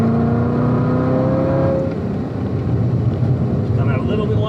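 2019 Chevrolet Corvette ZR1 engine accelerating on the Spring Mountain race track, a loud steady roar with rising tones, an instructor's voice talking over it throughout.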